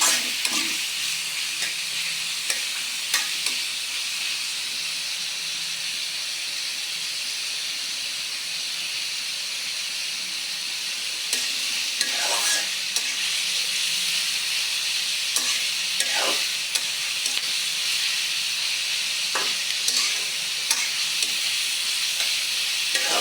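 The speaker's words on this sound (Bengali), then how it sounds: "ভাজা মাছটা দেবো এতে যে ভালো করে কষিয়ে নেবো" Fried papda fish sizzles steadily in a pan while it is stirred and cooked down, a constant loud hiss broken by occasional scraping stirs.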